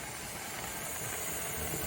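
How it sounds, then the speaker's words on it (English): Steady hiss of steam venting from a 23-quart pressure canner while venison is being canned, a continuous even rushing noise at constant level with no breaks or talk. "Got the steam going through the vent."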